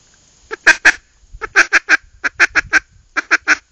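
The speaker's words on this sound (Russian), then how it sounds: "Это нужно делать в манок, такой звук вот мягкий, такой путь-путь-путь." Foiles Timber Rattler duck call blown in short, soft, quacking bursts, a quick uneven run of about a dozen close, loud honks with brief pauses between groups.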